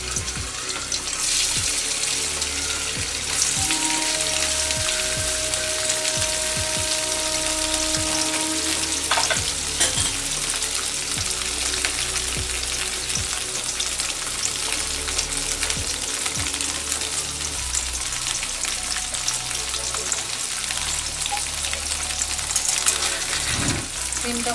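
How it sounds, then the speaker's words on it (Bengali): Paneer cubes fry in hot oil toward light browning, giving a loud, continuous, close sizzling hiss that holds steady throughout, with occasional faint stirring and clinks underneath. "আমি পনিরগুলো হালকা ব্রাউন করে ভেজে নেবো"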